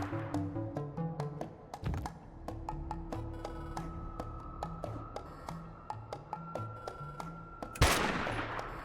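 A volley of gunfire from a party in the video game Dustland Delivery: a burst of sharp cracks over steady tonal game music, with one louder blast near the end.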